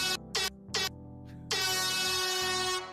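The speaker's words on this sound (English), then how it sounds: "that air horn sucks" Air horn blasts loudly: three short honks, a faint fourth, then one long sustained blare lasting about a second and a half, with a low background hum and no talking.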